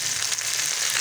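Finely chopped large tomatoes sizzling in a pan after onions, a steady close frying hiss with no voices over it.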